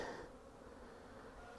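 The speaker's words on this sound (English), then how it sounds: "a lot of bees out flying today" Honeybees fly around active hives on a mild February day at Bearfield Farms, a soft continuous buzzing hum heard faintly from a short distance.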